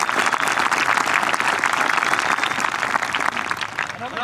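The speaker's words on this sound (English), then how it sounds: "So how about a round of applause for them?" Applause from a high school graduation crowd for the school administration, a dense, continuous clapping wash that holds steady and softens slightly near the end.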